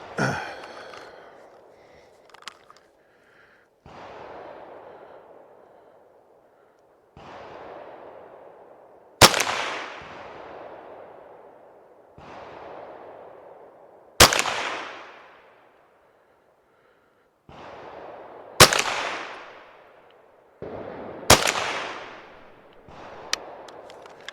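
A .22LR rifle fires Winchester rounds outdoors: several sharp, loud cracks spaced a few seconds apart, each followed by a short decay, with quieter handling clicks between them.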